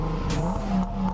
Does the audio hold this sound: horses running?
no